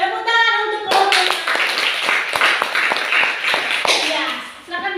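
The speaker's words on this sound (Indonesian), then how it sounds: "Tepuk tangan untuk kelompok." A classroom of students claps for a student group, a burst of close, sharp hand claps starting about a second in and tapering off near the end, with voices before and after.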